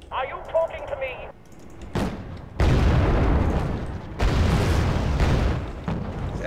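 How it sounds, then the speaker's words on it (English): Artillery shells exploding in the combat video game Wargame AirLand Battle, a sharp boom followed by two long, heavy rumbling blasts that fill the field, with a brief radio voice at the start. "Taking artillery fire from the tree line."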